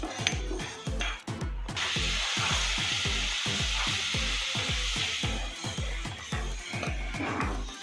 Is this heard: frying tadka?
yes